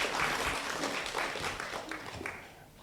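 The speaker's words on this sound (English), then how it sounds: "So let's clap for Jane as she's walking on stage." At a centenary celebration for a children's organization, an audience claps as a speaker walks onto the stage. The clapping is steady, moderately loud and dense, with voices mixed in.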